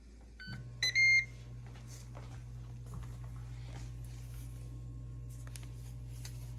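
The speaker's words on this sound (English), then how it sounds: "First, I'm going to preheat my air fryer to 375 degrees." Air fryer set to preheat at 375 degrees gives a short burst of beeps, then runs with a steady low hum and faint background rustle.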